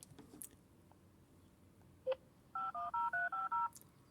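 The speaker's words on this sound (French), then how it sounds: "c'est la balise de signalisation qui passe toutes les heures" An hourly signaling beacon on a Zello radio network sounds as one short blip followed by a quick run of six clean two-note electronic tones, clear and alone over faint background hiss.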